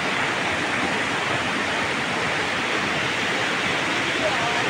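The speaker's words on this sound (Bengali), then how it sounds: "নদীর কুলুকুলো আওয়াজ।" The Reshi River in East Sikkim rushing by, a loud, steady broadband roar of flowing water heard close with no breaks.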